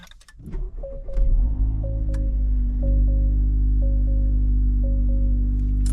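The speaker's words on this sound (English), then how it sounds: "So we're gonna fire it up." An Acura Type S car engine cold-starts with a short crank, then settles into a low, steady idle rumble. Paired two-tone dashboard chimes repeat at regular intervals over it.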